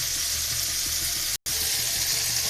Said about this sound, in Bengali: এবার কচু শাকটা ভাজতে ভাজতে এখন লাল হয়ে যাবে।